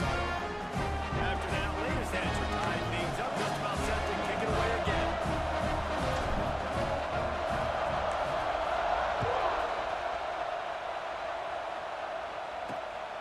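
Stadium crowd noise roars in EA Sports College Football 26, a continuous loud cheering swell that slowly fades toward the end while someone talks over it.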